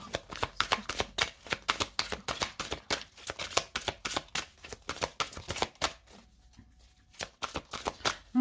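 Tarot and oracle cards shuffled by hand in quick, crisp riffling bursts that repeat rhythmically, pause briefly, then resume, close and clear with no talking.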